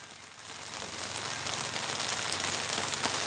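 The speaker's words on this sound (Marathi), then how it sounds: "आमच्या इकडे खूप जोरात पाऊस चालू झालेला आहे" Heavy rain pours steadily at a roadside vada pav cart, a dense, even hiss that grows slightly louder and stays unbroken throughout, with no one speaking.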